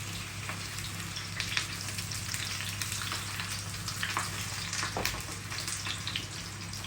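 Eggplant fries in a pan with a continuous loud sizzle and crackle, steady and close, with occasional sharper pops and no talking.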